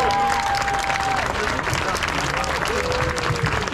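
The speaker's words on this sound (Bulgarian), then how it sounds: "Сега искам да поканя под вашите аплодисменти Йоана Колева, организатор на събитията." Audience applause at a RUN2GETHER Bulgaria 2023 community event, steady clapping that fills the whole stretch and stays busy and loud, with some crowd noise and voices mixed in.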